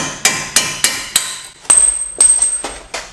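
A hammer strikes a vehicle suspension part about ten times in a row, the first few blows spaced evenly and the later ones quicker. Each hit is loud and close with a metallic ring, and a thin high tone lingers through the second half.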